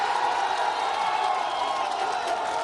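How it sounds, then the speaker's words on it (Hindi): A crowd at a Bihar election event applauds and cheers to welcome a candidate, producing a dense, steady wash of clapping and crowd noise, loud and continuous, with no clear individual voices. "तालियों के साथ स्वागत कीजिए।"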